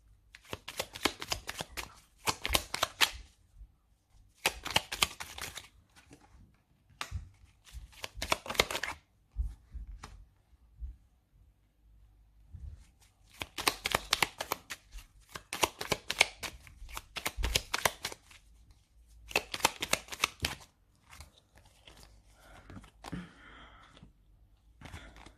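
A deck of oracle cards being shuffled and drawn in repeated bursts of dense riffling and flicking, separated by short quiet gaps and soft handling, close and moderately loud with no talking.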